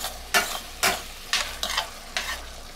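A spoon stirs cornstarch into a beef and broccoli sauce in a pan, five separate scraping, sizzling strokes spaced about half a second apart, close and clear with no talking.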